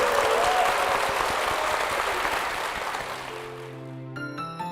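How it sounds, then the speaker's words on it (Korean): A church congregation applauds a couple in blessing, a dense wash of clapping that fades after a few seconds as organ or keyboard chords come in underneath. "두 분께 축복의 박수 부탁드리겠습니다."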